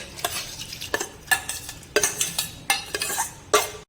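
Dry lentils rattle and scrape into a metal pressure cooker in several short bursts, with spoon clinks in between, close and fairly loud.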